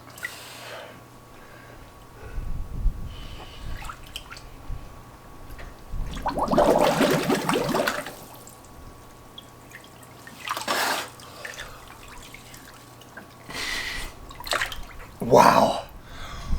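Water in a wood-wrapped chest freezer cold plunge sloshes and splashes as a head dips under, with a surge of churning, dripping water midway, near and fairly loud, and bursts of talk or breathy exclamations.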